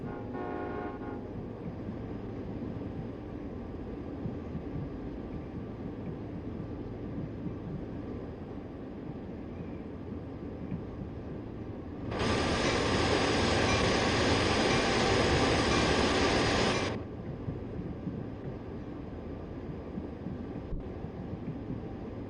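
A heavy coal freight train in Train Sim World 2 at Sherman Hill rumbles steadily, then a loud sustained horn blast sounds for about five seconds before the low rumble carries on.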